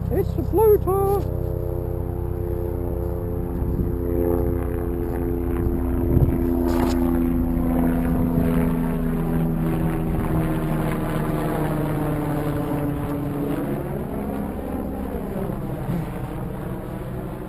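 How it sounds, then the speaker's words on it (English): A Skyhunter Mini RC plane's noisy propeller drones steadily overhead, its pitch slowly rising and falling as it passes, continuous and fairly loud throughout. "Maybe it's just a very noisy prop."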